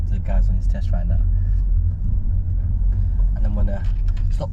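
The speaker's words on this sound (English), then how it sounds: "Tires on tarmac." Car tyres rolling over tarmac on a country-side driving test route, a steady close low rumble of road and engine noise running throughout, with faint voices in the background.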